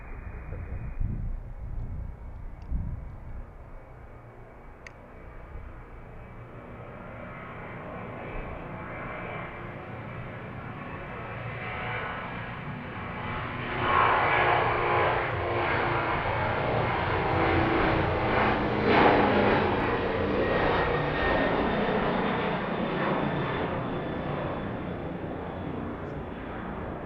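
FedEx heavy jet departing runway 31 at Harrisburg, a broad engine roar that builds steadily, swelling louder toward the middle and holding as the aircraft rolls and climbs, heard from a distance.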